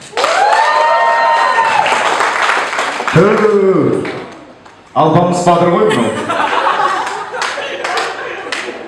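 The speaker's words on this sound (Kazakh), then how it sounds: "Сіздер шапалақ ұра беріңіздер" An audience at a 2016 polytechnic graduation claps in scattered bursts, mixed with chuckles and people talking nearby.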